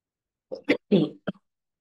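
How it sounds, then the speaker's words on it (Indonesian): A man gives a few short, harsh coughs in a quiet room, a cluster of abrupt bursts close to the microphone followed by a brief trailing sound. "lagi batuk"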